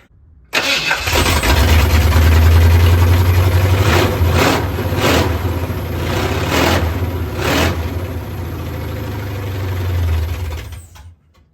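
A swapped-in Ford 351 Windsor V8 in a bullnose Ford truck fires up abruptly, then settles into a loud, steady, rumbling idle with a few small rev blips before cutting off near the end.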